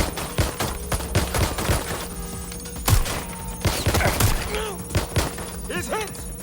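Gunfire in a tense shootout: a rapid string of sharp shots and thuds, close and loud, mixed with shouting voices and chaotic noise throughout.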